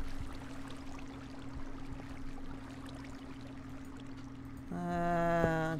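In a Survival Islands game basement ravine, a soft, continuous stream of flowing water runs quietly, joined near the end by a brief, brighter tonal game sound.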